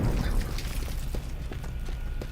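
Aftermath of a C4 explosion in the video game Teardown, a loud low rumble at the start fading into scattered crackles and debris clatter, with no voices.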